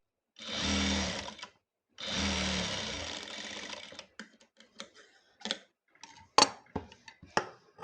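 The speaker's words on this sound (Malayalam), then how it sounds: "നമുക്ക് ഈ ക്യാൻവാസ് ഈ എക്സ്ട്രാ വിട്ടേക്കുന്ന തുണി അങ്ങ് മടക്കി തയ്ക്കണേ" A sewing machine stitches folded-over canvas fabric for a V-collar kurti in two short, buzzing runs, followed by scattered light clicks and handling taps, with no talking.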